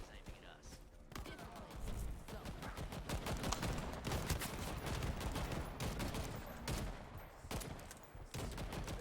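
Heavy gunfire from the shooter video game Shatterline, with sniper fire among it. Sustained volleys of shots fill the clip almost without a break, and voices talk beneath the shooting.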